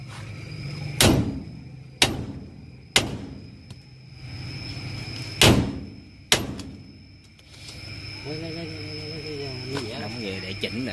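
Five sharp metallic hammer blows ring out during car brake repair in a workshop, irregularly spaced and loud, with a voice talking near the end.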